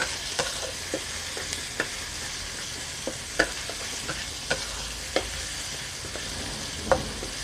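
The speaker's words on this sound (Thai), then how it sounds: "ผัดพริกกับกระเทียมให้หอมค่ะ" Chili and garlic stir-frying in a pan for Thai pork basil with bamboo shoots, a steady sizzle broken by intermittent spatula scrapes and clicks, close and fairly loud, no voices.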